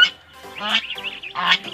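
Several nasal quacks from ducks close by on a farm in Bacnotan, La Union, a few overlapping calls in a short, busy burst.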